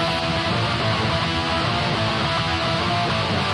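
A doubled distorted electric guitar part from a pop-punk song, treated with Saturn saturation, EQ and compression, plays loud and dense with sustained chords and a full midrange, running steadily with no talking.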